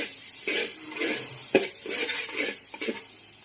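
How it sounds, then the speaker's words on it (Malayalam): A spoon works through ingredients in a cooking pan, giving a series of close scraping strokes with soft sizzling and occasional metallic knocks against the pan. "അതും കൂടെ ചേർത്ത് കൊടുത്തിട്ട് നന്നായിട്ടൊന്ന് മിക്സ് ചെയ്ത് കൊടുക്കാം"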